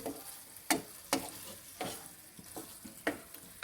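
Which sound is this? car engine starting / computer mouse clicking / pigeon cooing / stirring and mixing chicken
stirring and mixing chicken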